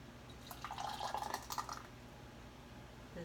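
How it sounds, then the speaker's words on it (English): Hot muscadine jam poured into heated jars, a soft, close-up run of wet trickling and dripping lasting about a second and a half before settling into quiet room tone. "I've got my hot jar here, and I'm filling them up with my jam"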